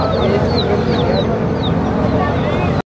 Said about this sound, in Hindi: ये बनगरी का मुर्गा है